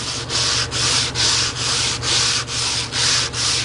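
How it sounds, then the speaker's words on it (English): Coarse sanding block rubbed back and forth across wood in steady strokes, about eight even passes, close and fairly loud with no talking. "I'll take a real coarse sanding block and just go real light."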